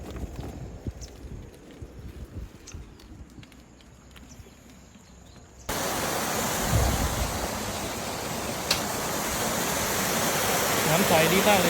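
A waterfall seen from its lower tier, starting faint and distant, then abruptly becoming a loud, steady, close rush of falling water for the second half, with some scattered clicks early on.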